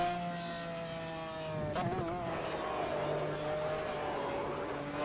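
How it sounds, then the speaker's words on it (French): High-revving McLaren F1 GTR Longtail race car engine in Project CARS, a steady harmonic engine whine with a rev change and pitch wobble near the two-second mark, continuous and fairly loud throughout. "Vraiment, le son de cette McLaren, il est..."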